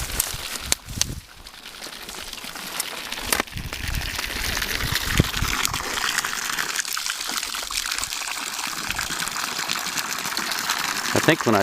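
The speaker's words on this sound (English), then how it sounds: "You can probably hear the water running over" Water runs steadily through reconnected piping fed from a top tank, making a continuous close rushing and trickling flow. A few knocks and clunks come early on.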